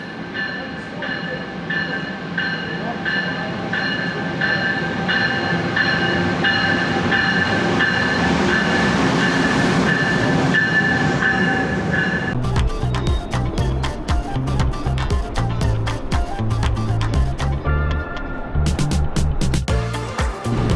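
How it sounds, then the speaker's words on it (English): An outdoor train passes on a railway track, first as a loud, steady rumbling roar, then as a rhythmic clickety-clack of wheels over rail joints as the cars roll by close. "And we have another train coming."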